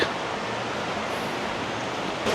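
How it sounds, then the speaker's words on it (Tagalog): Rushing water of a waterfall in the Philippines, a steady broadband roar heard from a short distance, continuous and even with no voices over it. "rinig kami na yung sound of water eh"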